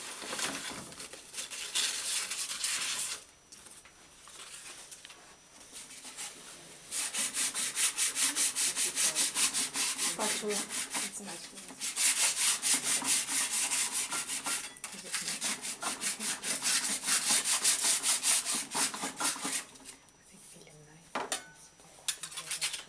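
Azurite pigment ground by hand, likely with a muller on a stainless steel surface, giving a steady gritty scraping and rubbing that comes in long sustained bursts with brief pauses, close and fairly loud, with no talk.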